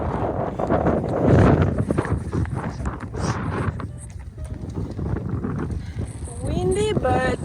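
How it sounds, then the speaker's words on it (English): Strong gusting wind buffets the microphone during a bicycle ride, a loud, steady roar with low rumble that persists throughout, with a voice speaking briefly near the end. "Durísimo que está el viento aquí."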